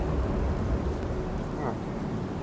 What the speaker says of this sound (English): it's raining and it's so beautiful, the sound and just the ambience of it